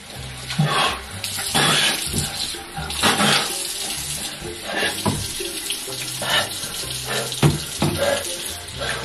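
Cold water running steadily from a household tap into a sink, a continuous close splashing stream that lasts throughout with brief clunks and faint voices in the background.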